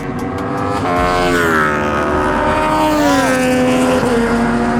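A race car on the Taebaek circuit accelerates hard, heard from inside. The engine note climbs loudly and steadily, with a brief dip and pitch shift as it shifts or lifts, then pulls again.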